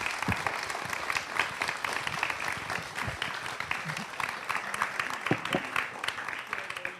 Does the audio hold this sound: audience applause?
yes